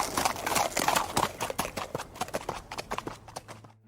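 Horse hooves clip-clop rapidly and close as a prince rides off toward a palace, a steady galloping rhythm that gradually thins and fades into separate, lighter footfalls.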